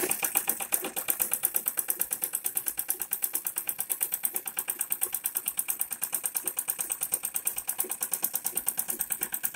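A sewing machine stitching fabric, running steadily with a fast, even mechanical clatter that repeats at a regular rhythm, close and alone with no talk.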